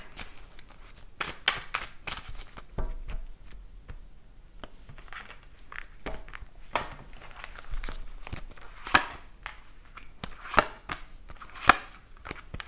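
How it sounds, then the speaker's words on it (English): Tarot cards being shuffled in repeated crisp riffles and flutters, close and fairly loud, with short pauses between bursts and no talking. "One more shuffle"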